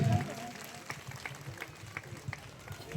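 A crowd at a public election rally in Thane gives scattered, uneven clapping for a speaker. The claps come as separate bursts rather than a full ovation, with some murmured voices underneath.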